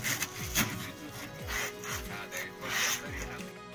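A plastic canister is deburred around a freshly drilled hole by hand, giving a series of short rasping scrapes in an uneven rhythm, close and moderately loud.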